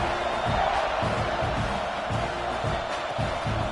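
A dense, continuous roar of a football stadium crowd cheering at a Texas A&M versus Louisville game, steady and loud throughout with layered shouts and whoops blending into a wall of noise.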